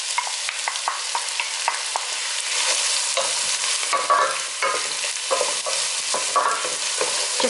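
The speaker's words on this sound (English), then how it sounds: "So I'm going to add all the onions in now." Onions fry with garlic and ginger in a hot pan, a loud, busy sizzle broken by repeated scraping and stirring clatters from a utensil against the pan, with no voices.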